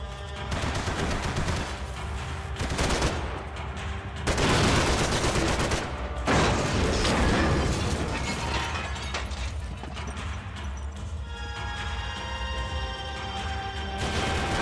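Sustained gunfight in Max Payne 3, with loud, near, dense bursts of rapid shots and crashing impacts running almost continuously, with only brief lulls between volleys.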